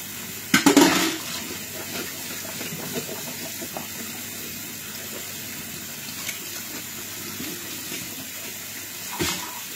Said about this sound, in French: je vais vous montrer comment je lave souvent aussi mes filets de poisson là